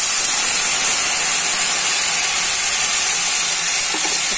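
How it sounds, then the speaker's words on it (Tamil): Ground tomato poured into hot oil with garlic sizzles loudly in a pan, a dense continuous hiss that stays even throughout with no voices. "இப்போ நம்ம அரைச்சி வச்சுருக்க தக்காளியில் கொஞ்சமாக எடுத்து ஊற்றிக்கலாங்க."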